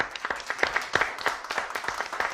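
A studio audience gives a round of applause for a show guest: quick overlapping claps at moderate loudness, steady for a couple of seconds.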